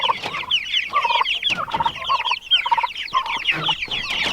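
Meat chickens cluck in a steady, busy chorus on a pasture farm, with overlapping calls close by and no talk.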